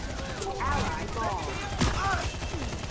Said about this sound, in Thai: ลูกซองลูกซองยิงว่ะ